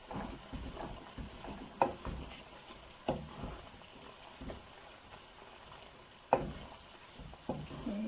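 Golden and black raisins with cranberries being stirred into a pot for pineapple zarda, a soft scraping and mixing with a few sharper spoon knocks against the pot, close and quiet with no talk.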